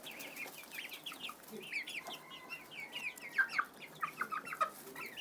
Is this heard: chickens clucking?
yes